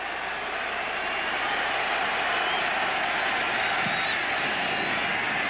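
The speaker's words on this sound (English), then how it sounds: "the crowd is really psyched here in Seattle" Crowd at a Seattle football game cheering and clapping as a steady, broad roar that holds throughout without clear breaks, heard from a distance with no voices rising above it.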